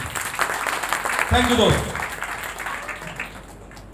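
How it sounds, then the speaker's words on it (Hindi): An audience at a business training seminar applauds in a short burst of clapping, mixed under someone speaking into a microphone. "तालियां चाहो इस बिजनेस के लिए।"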